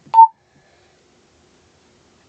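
An onn walkie-talkie plays a ringtone: one short, loud, close electronic beep, followed by near silence.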